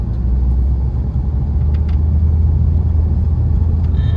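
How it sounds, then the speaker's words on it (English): Car on a circuit track rounding a corner, a loud, steady low engine rumble with road and wind roar that holds at a constant level, heard from inside the cabin with no talking. "Now just let the car go around the corner."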